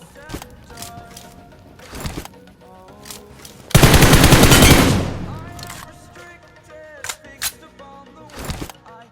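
M4 rifle bursts in the mobile battle-royale game BGMI, with a sustained loud spray midway and scattered shorter shots around it, while someone talks over the gameplay.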